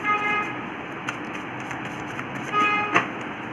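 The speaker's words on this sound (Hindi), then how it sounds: "जो रेगुलर हॉर्न पे हॉर्न बजा रहा है" Vehicle horn honking repeatedly outside, with two bursts of tonal honks separated by steady background traffic noise, heard at a moderate distance with no talking.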